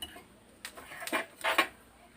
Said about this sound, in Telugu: నేను ఏం చేస్తానంటే ఈ చిల్లుల గరిటెతోటి వీటిని తీసి